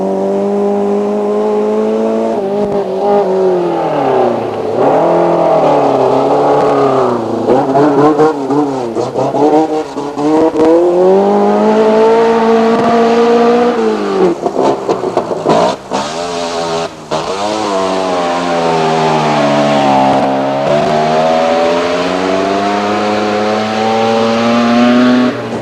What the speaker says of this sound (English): Blackmore, driving the only Hillman Hunter being rallied in New Zealand